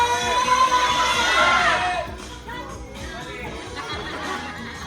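A crowd of children at a birthday party shouting and cheering together, loud at first and then settling into a busier, softer hubbub of excited voices.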